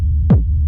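A deep, steady sub-bass rumble throbs low underneath, swelling into one brief pulsing thump midway before settling back.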